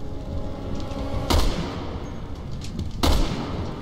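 Two sharp, loud gunshots crack about two seconds apart in Resident Evil 6 gameplay on PC, each a brief blast over a low, steady game background.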